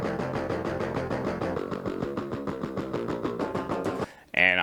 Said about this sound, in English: So our stereo pair right now just sounds like this with guitars.